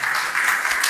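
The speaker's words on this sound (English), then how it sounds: "So, can I round of applause for Sister Zahira Bam" A dense, steady wash of applause from an audience, continuous clapping filling the whole moment without a break.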